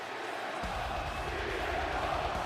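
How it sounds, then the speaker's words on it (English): Arena crowd in WWE 2K25 for hometown hero CM Punk in Chicago, a dense roaring wash of cheering and chanting that swells louder after a brief softer opening, steady and continuous. "You guys can just hear the crowd."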